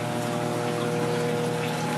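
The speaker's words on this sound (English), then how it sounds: "there's a little line sticking in the water barely, maybe a quarter-inch, little quarter-inch tube, and it's siphoning water out all the time" A quarter-inch tube siphons water out of a clown loach aquarium, making a steady, close trickling rush with no pauses.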